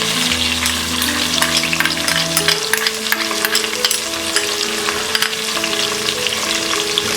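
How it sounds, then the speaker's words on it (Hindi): Onions fry over a medium flame with bay leaves and curry leaves, a loud, steady close-up sizzle and crackle with a few spoon scrapes, while soft background music plays underneath. "अनियंस को हम मीडियम फ्लेम में फ्राई करेंगे।"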